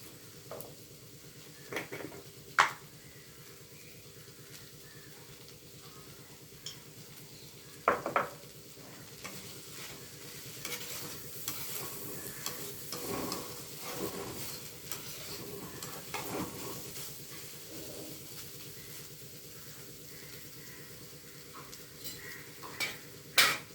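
Vegetables frying on a low flame in a pan, a steady soft sizzle with occasional louder stirring scrapes and clinks of a spoon against the pan throughout.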